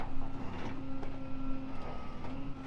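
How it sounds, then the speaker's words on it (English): A winch on a rescue job pays out cable with a steady mechanical whine and hum, close and continuous, with faint clicks running through it. "I'm gonna let out on the winch a little."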